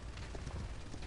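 Galloping horse hooves in the Paladins video game, a quick steady clip-clop rhythm that runs continuously and close up for about a second, with no voices over it.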